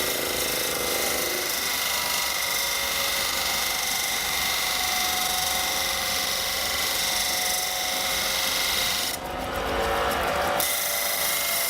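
A homemade lapidary machine sands against wet sandpaper, making a steady loud whirring grind with a hissing wash of water that shifts briefly near the end.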